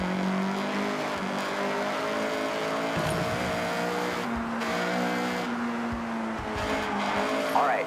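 A Honda CRX in Forza Horizon 6 accelerating hard with its engine droning and climbing steadily, tires squealing briefly near the end, loud and continuous throughout.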